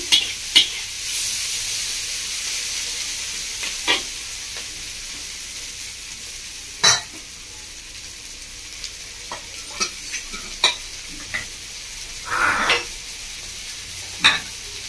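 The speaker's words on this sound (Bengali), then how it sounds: "চিংড়ি মাছগুলো ভালো করে ভেজে নেব।" Prawns fry in a pan while being stirred, a steady sizzle broken by scattered sharp clinks and scrapes of the spoon, close and fairly loud with no voices.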